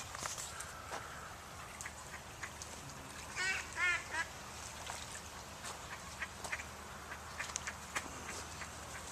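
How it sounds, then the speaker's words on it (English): Faint quacking and splashing from ducks bathing in water at a distance, with a brief cluster of quacks amid a steady outdoor background hiss. "We got some ducks bathing."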